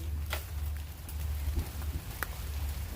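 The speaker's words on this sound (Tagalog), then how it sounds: "Ay, naulan na." Rain falls outdoors as a steady diffuse patter over a low rumbling background, with a few sharper drips or knocks standing out.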